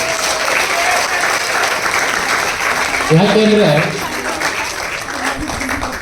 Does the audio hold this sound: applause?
yes